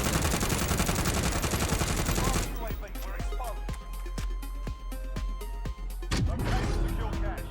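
Krig 6 assault rifle firing in Warzone, a Cold War gun, with a rapid automatic burst of about ten sharp shots in a row, bracketed by loud dense game noise before and after.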